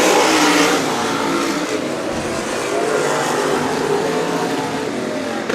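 Sprint cars race at Stockton 99 Speedway, their engines a loud, continuous, close roar as the pack charges around the oval with no voices heard.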